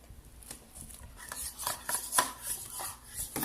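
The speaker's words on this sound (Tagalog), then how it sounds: "So, guys, Kobe is mixing it" Conditioner and vinegar being mixed by hand into a homemade hair treatment, giving soft, irregular squelching and rubbing scrapes that grow slightly louder partway through, close up with no talking.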